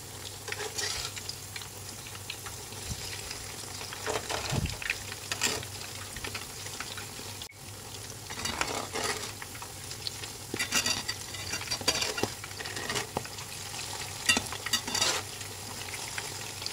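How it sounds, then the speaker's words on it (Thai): Thai fish cakes made from canned tuna with betel leaves deep-fry in hot oil, bubbling and crackling loudly up close, with bursts of spattering as pieces are dropped in and turned. "แล้วก็ค่อยๆใส่ไปทีละช้อนเลยค่ะ ทอดมันสุกก็ค่อยๆกลับด้านนะคะ"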